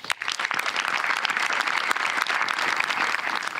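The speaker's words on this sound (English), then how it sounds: "Please help join me in a round of applause." An audience applauds at an Army retirement ceremony: sustained, full clapping from many hands, bright and continuous, with a few sharper individual claps standing out near the start.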